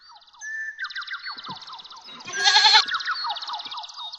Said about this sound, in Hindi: किसे दी बकरी होवे ते मेरे कोल है